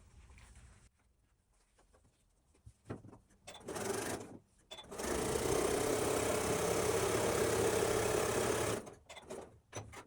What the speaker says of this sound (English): And then we'll sew along this edge as well.